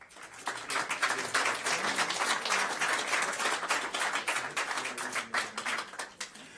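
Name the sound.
applause at a school board meeting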